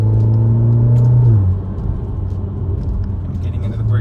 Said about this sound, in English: getting up to some speed here and then kind of mashing on the brakes